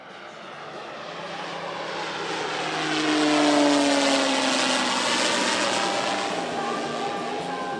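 A display aircraft makes its final pass at an airshow in Leszno, its engine roar swelling as it nears, peaking, then fading as it moves away, with a commentator's voice over it.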